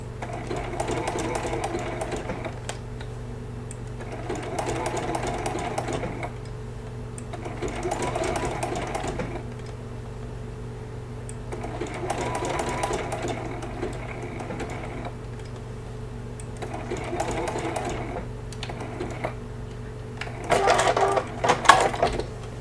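Sewing machine stitching around a teddy bear applique for a baby quilt: repeated bursts of fast, even mechanical stitching, each a few seconds long with short pauses between, over a steady low hum.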